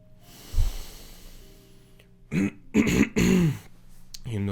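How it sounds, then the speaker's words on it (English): A person clears their throat during a breathing and vocal warm-up exercise, a few short rough bursts following a soft breath, close and fairly loud with no other talk. "You notice you may want to clear your throat."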